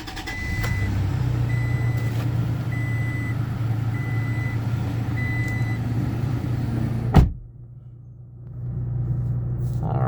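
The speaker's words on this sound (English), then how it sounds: "Good cold start." A 2021 Toyota Tacoma idles after a cold start, a steady low engine drone with faint periodic beeping, then a sharp thump and a brief quieter stretch before the idle resumes.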